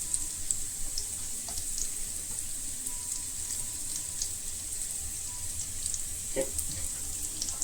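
Chilies frying in a hot pan for egg fried rice, giving a steady, loud sizzle that holds throughout with small crackling pops. A brief word is spoken over it.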